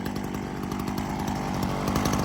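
Ryobi RY3716 chainsaw engine running at a loud, steady buzzing idle-to-rev pace up close, with a continuous rough two-stroke drone throughout and no voices.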